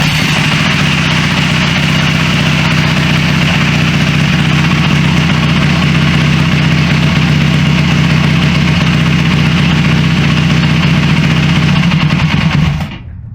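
A Yamaha YZ450F dirt bike fitted with a new carburetor runs at a steady, loud idle close by, a constant throbbing drone that holds evenly before cutting off abruptly at the very end, with no one speaking.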